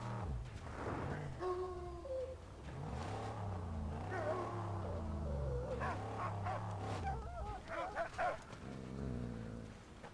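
A dog in the Mad Max video game whimpers and yips in a series of short, pitched calls, close and fairly loud, over a steady low engine rumble.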